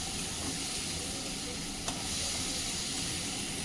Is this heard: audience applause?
no